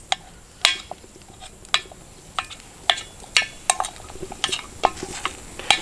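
A utensil stirs and scrapes slightly frozen hamburger meat in a pan on an outdoor camp stove, sharp clinks and scrapes repeating every half second or so over a faint, steady sizzle.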